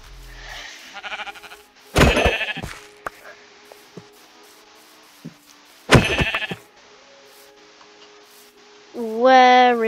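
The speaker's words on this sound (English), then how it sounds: "I'm gonna get some sheep. So I can get some wool and some lamb." Sheep bleating in the video game Minecraft, a few short, loud synthesized bleats spaced several seconds apart, with small clicks and hit sounds from gameplay between them.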